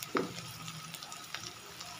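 Ginger garlic paste frying in a pan for a rohu fish curry, with a sharp sizzling burst as it hits the hot oil, then a softer, steady crackle and light stirring, close by with no speech.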